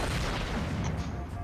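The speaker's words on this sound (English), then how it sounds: "Grenades for everyone!" Grenade explosions in a video game, a dense rumbling blast filling the whole brief moment, loud and close with no pause.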